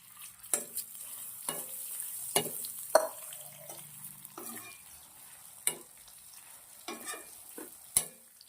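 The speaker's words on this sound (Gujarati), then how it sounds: "મસ્ત મજાની ઘીના અંદર આપણે સેવને શેકી લેવાની છે" Sev vermicelli roasting in hot ghee in a pan for dry fruit shiro, a soft continuous sizzle broken by repeated scraping stirs of a spoon every second or so, close and quiet with no talking.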